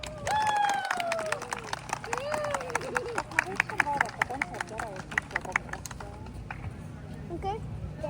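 Audience applause for a performer at an outdoor seaside-day festival in Kunda: scattered claps run throughout under crowd chatter and a tonal voice or music near the start, steady and moderately loud with individual sharp claps near the mic.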